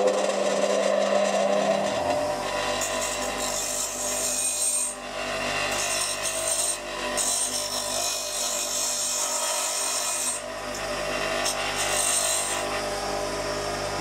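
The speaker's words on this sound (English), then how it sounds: "It's about a 36 grit and we just want to get it running true with nice sharp edges." A bench grinder's coarse 36-grit roughing wheel is trued, giving a steady loud grinding rasp and hiss that runs continuously after a motor spin-up, with no speech.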